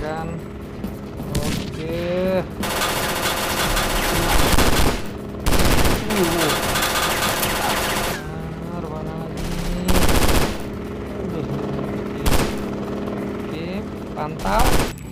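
Gunfire in an offline sniper video game: loud, close bursts of rapid automatic shots in repeated volleys with short gaps, and a voice speaking briefly between them.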